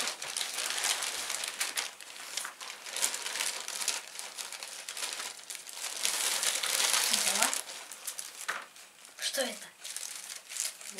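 A parcel being opened, with packaging crinkling and rustling steadily throughout, close and fairly loud, as people talk over it.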